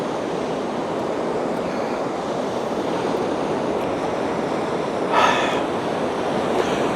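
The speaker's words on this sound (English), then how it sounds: "I'm just going to sit here and have a bit of a quiet contemplate of the ocean" Ocean surf rolls in steadily along the Bellarine Peninsula shore, a broad, constant roar with some wind buffeting the microphone and a brief brighter gust near the end.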